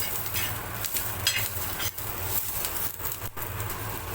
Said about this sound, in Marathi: त्याच्यामध्ये मी आता एक खोबरं पण भाजून घेते